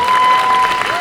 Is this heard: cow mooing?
no